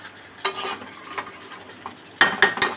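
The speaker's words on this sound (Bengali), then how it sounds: "এটাকে কষে যেতে হবে যতক্ষণ না পেঁয়াজটা সুন্দরভাবে মজবে ততক্ষণ অবধি এটা কষতে হবে" Onions being stir-fried in a pan for a Bengali chicken curry, with soft sizzling broken by several sharp scrapes and clinks of a spoon against the pan, the clearest cluster of strokes near the end.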